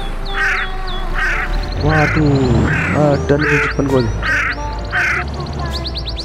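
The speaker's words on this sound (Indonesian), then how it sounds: "serem banget di sini ada burung. Burung gagak ya, guys." Crows caw repeatedly in Euro Truck Simulator 2 while a truck is driven up a steep hill, the calls sounding throughout over a low engine hum, with someone talking over them.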